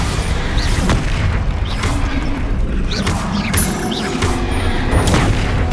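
A Bombarda spell explosion in the video game Hogwarts Legacy booms loudly amid repeated crashing bursts and dense combat noise, with several impacts landing in quick succession.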